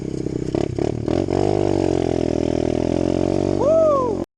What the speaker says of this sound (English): I love that sound, 4-stroke.